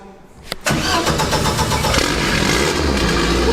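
A Ford Escort 2.1 Zetec van engine cranks briefly and catches at once, settling into a loud, steady run close by.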